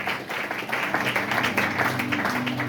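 A church congregation at a Sunday service in Brazzaville applauds, steady crowd clapping that swells slightly and carries on throughout, with faint voices mixed in.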